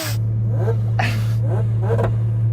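Supercharged motorcycle engine revving in short bursts, a steady low idle drone underneath with rising rev blips and an airy supercharger induction whoosh, close and loud.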